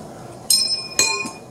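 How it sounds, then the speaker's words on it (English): A sprung-steel M1 Garand en-bloc clip snapped between the fingers gives two bright, metallic pings a half second apart, each ringing briefly, close and clear. "The En-Bloc clip is sprung steel. So I simply take it in your fingers and snap it."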